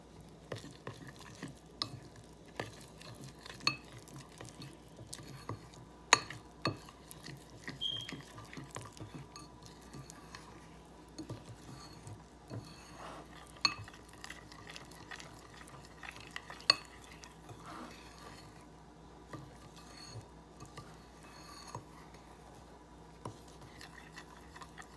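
A spoon stirs cinnamon icing and milk in a bowl, scraping and clinking against the sides in quiet, irregular strokes over a faint background hum, with no voices.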